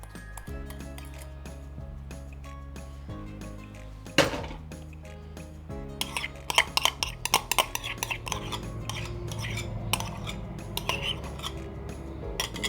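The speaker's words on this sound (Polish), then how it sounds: "Teraz sałatkę mieszamy." Utensil clinking and scraping through a bowl of classic potato salad with cucumber, dressed with mayonnaise, starting softly then turning into a busier run of irregular clicks and knocks, close and moderately loud, with no talking.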